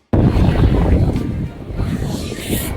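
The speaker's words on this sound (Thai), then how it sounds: "ลมแรงมากเลย" Strong gusty wind buffets the microphone outdoors on a cold, windy mountain at Khao Kho, Thailand, a loud continuous rumbling roar that rises and falls throughout.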